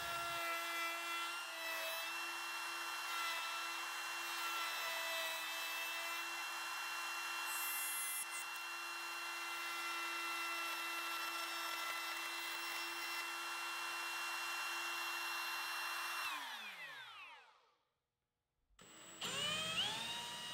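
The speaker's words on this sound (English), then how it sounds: "The next step is to trim the handle with a straight bit in the router." A router fitted with a straight bit trims a wooden handle for a garden toolbox, giving a steady, loud, high motor whine that spins down and stops near the end before a brief different sound.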